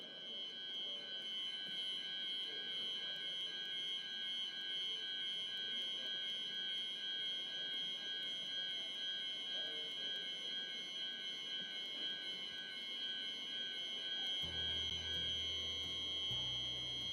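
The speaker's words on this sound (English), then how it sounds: "I never thought my speech could start fire alarms" A fire alarm sounds continuously in a conference hall at a semiconductor forum, a steady shrill electronic tone filling the room with a low hum beneath, unbroken throughout.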